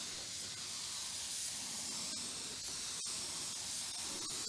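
Black lacquer misted from a spray gun onto a wooden mason jar tote over a Van Dyke Brown wash coat, a continuous airy hiss held steady throughout with a few faint clicks.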